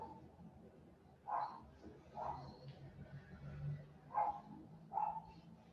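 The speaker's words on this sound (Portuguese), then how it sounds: "Só ouço o cachorro latindo aqui ao lado do vizinho." A dog barks next door, with four or five faint, separate barks from a distance in a quiet room.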